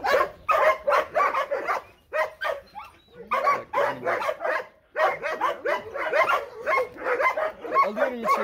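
Kangal and Chow Chow dogs bark and yip repeatedly in a busy, overlapping stream, mixed with people talking nearby.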